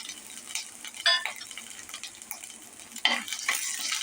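Crushed garlic cloves and finely chopped ginger go into hot oil with curry leaves for a dal khichdi, giving a soft sizzle with bursts of crackle and stirring, steady and close, with no talking.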